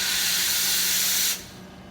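An espresso machine's steam wand steaming milk in a pitcher while a shot pulls, giving a loud, steady hiss that cuts down abruptly to a quieter background rush near the end.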